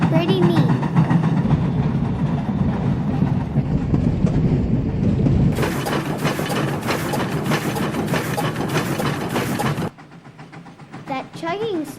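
The California Skunk Train, a steam train, rumbles and clatters with a heavy, rhythmic mechanical pounding, growing louder and denser partway through before cutting to a quieter stretch with faint squeals.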